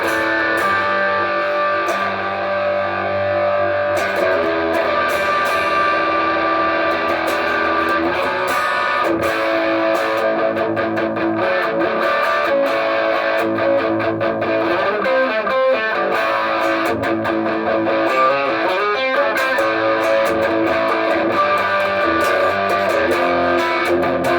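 Loud, continuous distorted electric guitar chords and riffs come through a Fender Pugilist pedal with both tone knobs around two o'clock, a thick, punchy, sustained crunch with strummed accents throughout.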